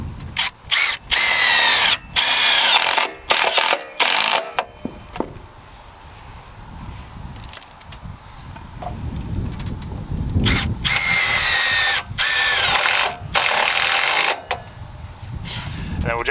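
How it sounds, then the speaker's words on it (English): A power drill whirs in repeated bursts as self-tapping screws are driven into a caravan, each run ending abruptly, with quieter pauses of low rumble and movement between. "the screws are all self-tapping, so as long as you've got yourself a decent drill, too easy"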